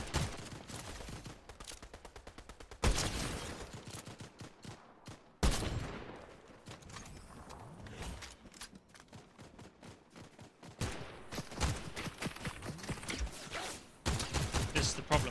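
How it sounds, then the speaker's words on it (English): Gunfire striking the player in Fortnite: bursts of rapid shots and impacts in uneven clusters, some loud and sharp, others quieter, separated by brief lulls and busy game noise. "I'm being shot from behind."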